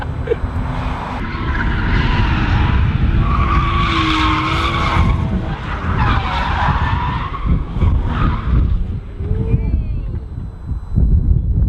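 Drift car tires squealing and skidding through a 360-degree entry on a track, long loud screeches rising and falling over engine roar, with people talking over it.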